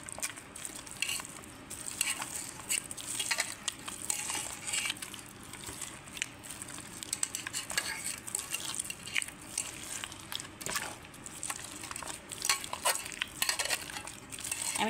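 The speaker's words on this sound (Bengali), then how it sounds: "এই জলেই আমি তালটাকে মেরে নেব" Palm fruit pulp being mashed by hand in water makes a continuous wet squelching and sloshing, with soft irregular squishes and drips, close and fairly quiet.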